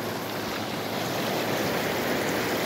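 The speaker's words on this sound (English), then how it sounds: "Sluice box is running really good." Water rushes steadily through a sluice box used for gold prospecting in Alaska, a dense, continuous close-up wash with no pauses and no voices.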